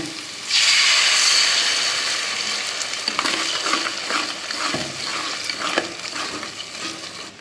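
Cooked rice flour dough being stirred in a hot pan for steamed salt dumplings, a steady close sizzling hiss with scraping strokes and soft knocks that grow more distinct toward the end, no talking.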